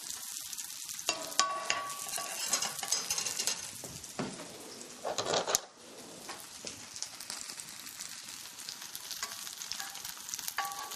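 Shallots sizzle and crackle steadily in melted margarine in a pan, with occasional stirring scrapes and clinks close by; no one speaks.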